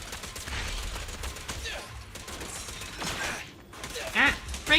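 Rapid gunfire bursts from the video game Zenless Zone Zero, crackling volleys with a few sharper shots near the end, set against game sounds and intermittent speech.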